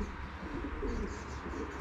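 Racing pigeons cooing at a loft on the opening day of the racing season, soft low burbling calls that run continuously and sound quiet, as if heard from a short distance away.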